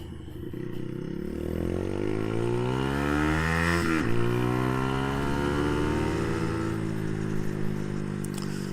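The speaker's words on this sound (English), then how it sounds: "if I wanted to do small circles, give a little bit of gas" A Brixton Felsberg 125 motorcycle with gearbox problems rides small circles on light throttle, its engine hum sweeping up and down in pitch as the revs rise and fall, steady and fairly close throughout.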